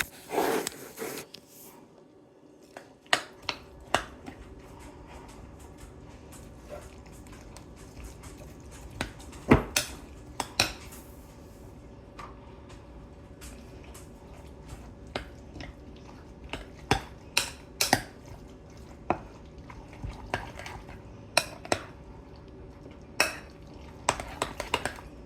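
A spoon stirs a pot of Ohio-style baked beans, giving scattered sharp clinks and scrapes against the pot at an irregular pace over a low, steady kitchen background.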